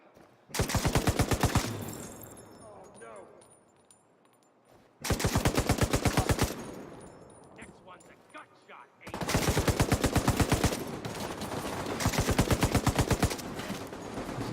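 Gunfire in The Division 2 comes in three loud, dense bursts of rapid automatic shots, separated by quieter stretches of game ambience and scattered single shots.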